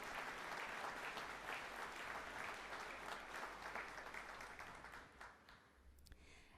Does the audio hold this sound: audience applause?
yes